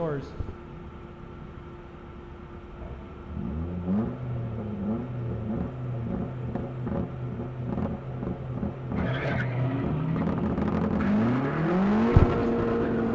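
A Mazda Speed Miata and a Camaro launch off the line at a ProSolo autocross drag start, engines revving and rising in pitch as they accelerate, with an announcer talking over the cars.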